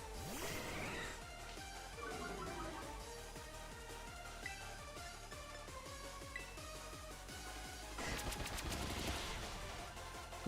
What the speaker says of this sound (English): pin missiles